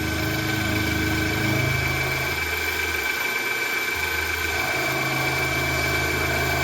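A coated CNC end mill cuts aluminum dry, without cutting fluid, producing a constant close machine drone with a sustained tonal whine and a low rumble underneath.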